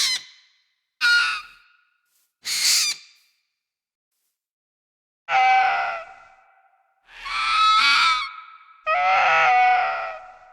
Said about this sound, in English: Screech. Oh yeah, that's definitely very ghastly.